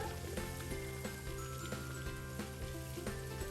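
Boiled noodles frying with sausage in a hot pan, a steady close sizzle running throughout with faint clinks of stirring and no talking.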